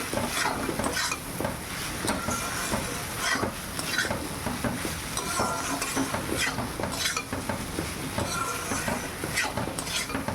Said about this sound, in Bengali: কম করে একটু হলুদ দিলাম মশলাটা দিয়ে ভালো করে একটু ভেজে নেই